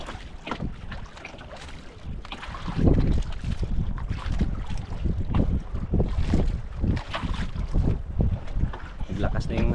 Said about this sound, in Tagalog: Naglakas na yung hangin, idol, pero yung alon wala man